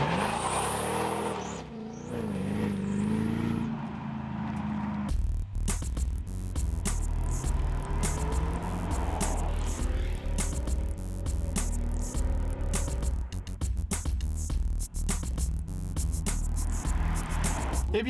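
Mercedes CLK DTM race car V8 engine, first a rising rev, then loud deep rumbling under hard acceleration with rapid gear-change cuts and repeated revs, close and continuous.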